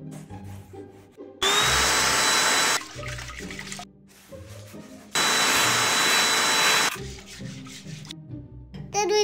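A vacuum cleaner used for household cleaning roars loudly in two separate bursts of about one to two seconds each, switching on and off, with quieter clattering and handling noises between the runs.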